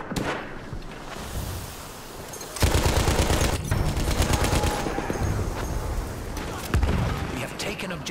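Madsen light machine gun firing in a Ballroom Blitz multiplayer shooter match, dense rapid bursts starting about a third of the way in and continuing loud and steady, with other gunfire and game noise around it.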